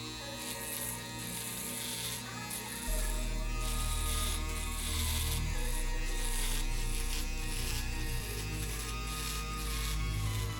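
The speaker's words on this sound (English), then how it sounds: "Use the shaver. We are only using the border of the machine" An electric shaver buzzes steadily while cutting hair for a bald fade, a close, continuous whine with a deeper motor hum joining partway through.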